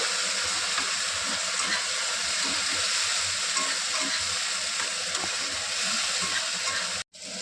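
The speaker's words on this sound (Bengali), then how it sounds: "ভালো করে কষিয়ে নিতে হবে যতক্ষণ না টমেটোর কাঁচা গন্ধটা চলে যাচ্ছে" Tomato paste and spices sauté in a pan over a low gas flame for a chicken and potato curry, making a continuous, even sizzle with faint stirring that cuts off briefly near the end.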